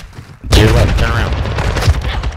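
Rapid gunfire from the video game Call of Duty: Modern Warfare II, a loud close burst of shots starting abruptly, with a voice talking over it.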